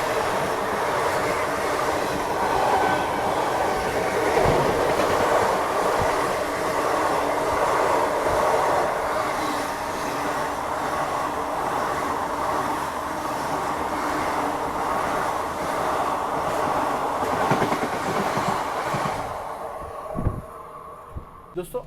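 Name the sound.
Jabalpur Bandra Festival Special Express train passing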